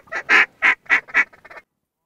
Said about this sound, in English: Specs, ducks, we got everything happening at once.